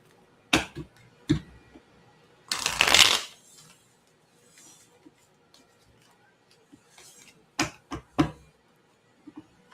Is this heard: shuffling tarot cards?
yes